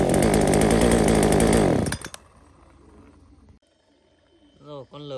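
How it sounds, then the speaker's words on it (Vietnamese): A chainsaw fitted with a spring-assisted easy-pull starter roars loud and close for about two seconds, then cuts out into near quiet, with a voice speaking briefly at the end. "máy này thì được tích hợp chủ giật trợ lực lò xo nên là cực kỳ giật êm luôn các bác nhá"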